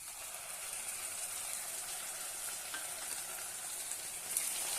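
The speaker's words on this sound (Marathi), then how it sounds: "छानपैकी परतून घेऊया" Ginger-garlic paste and tomato paste sauté in a pan for a potato curry, giving a faint, even sizzle and hiss that holds steady throughout with no voices.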